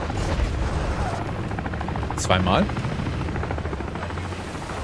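In Call of Duty MW3 Zombies, a helicopter's steady rotor drone rumbles under someone talking, with a brief louder whoosh or burst rising midway before the engine noise settles back.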